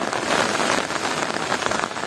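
Steady drizzle patters over waterlogged fields in Palani in the early morning, an even, continuous wash of fine raindrops close by, with no voices.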